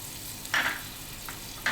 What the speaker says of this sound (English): heat the pan, add butter, until the butter melts